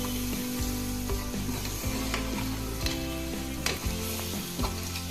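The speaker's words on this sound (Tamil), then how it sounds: "ஆனால் நல்லா வதக்கி விடணும். அப்போ தான் ரொம்ப டேஸ்ட்டாக வரும்." Crab masala sautéing in a pan, a constant loud sizzle with repeated sharp knocks and scrapes of a spoon stirring, close up and with no voices.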